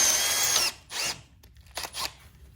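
A power drill fitted with a bit drills out a part while tearing down the window of a 1966 VW Split Bus: one sustained high whir, then several short, quicker bursts as the drill starts and stops.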